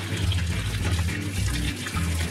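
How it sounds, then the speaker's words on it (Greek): A kitchen tap runs steadily into a colander, rinsing raw liver in the sink. The gushing water is close and constant throughout with a slight shift in flow near the end, and no voices. "Θα τη ρίξουμε μέσα στο σουρωτήρι, θα την ξεπλύνουμε καλά και θα συνεχίσουμε. Ξεκινάμε λοιπόν, ανοίγουμε το νεράκι και ξεπλένουμε."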